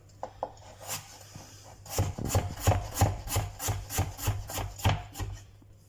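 A knife slices potatoes on a board into 2–3 mm slices, a few light taps and then a steady series of about ten rhythmic slicing strokes.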